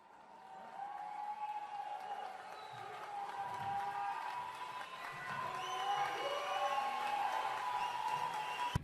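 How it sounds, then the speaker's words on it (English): Faint crowd cheering and applause from a promotional clip, a distant wash of voices that swells gradually toward the end with a few whoops. "A promotional YouTube video would be found that contained the exact same crowd cheer heard in the 2007 snippet."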